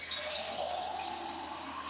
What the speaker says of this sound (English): you take your jar, fill it full of water.